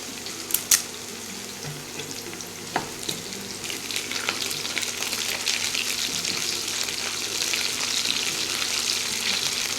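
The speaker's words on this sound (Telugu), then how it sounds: "ఇప్పుడు ఈ ఉల్లిపాయల ముక్కలు బాగా ఫ్రై అయ్యామండి." Onion pieces fry in a pan with black cumin and bay leaf, giving a steady sizzle throughout with a few sharp clinks and stirring scrapes, close and alone without speech.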